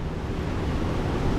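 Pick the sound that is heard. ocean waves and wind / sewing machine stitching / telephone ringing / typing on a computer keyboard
ocean waves and wind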